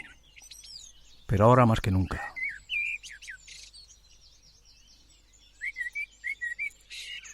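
A blackbird sings sweet, varied warbling phrases with clear pauses between them, while someone speaks briefly over the song.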